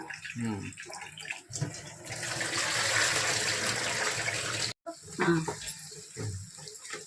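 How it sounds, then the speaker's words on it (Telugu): Rice being washed in water for a chicken biryani: a steady, fairly loud splashing and sloshing of water, with a brief pause, while someone talks before and after. "నేను రైస్ క్లీన్ చేస్తాను ఇదిగోండి రైస్ కడిగేసి పెట్టేస్తాను"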